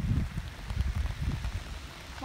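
Steady rain falls outdoors at a battlefield park, a dense even patter of drops on surfaces, close and continuous without pause.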